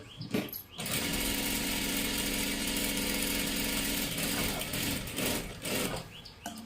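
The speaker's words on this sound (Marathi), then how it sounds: "हे पहा आता इथे परत एकदा डबल शिलाई." A sewing machine runs steadily at speed, double-stitching a salwar seam, with a loud continuous motor whir that starts after a brief pause and carries on nearly unbroken, easing slightly toward the end.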